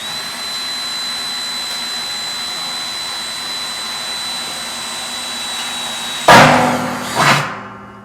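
A power drill bores a starter hole in a brewing kettle for a weldless bulkhead fitting, with the kettle braced on blocks. A steady, close, high whine runs throughout, then two louder rough bursts come near the end.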